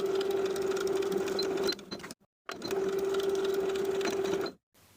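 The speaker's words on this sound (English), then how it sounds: "Sew both short waistband edges from the top folded edge to the bottom folded edges with a 3/8 inch seam allowance" A sewing machine stitches the short waistband edges of a pair of shorts in two bursts with a steady whirring hum, each run stopping abruptly into a brief silence, close and moderately quiet.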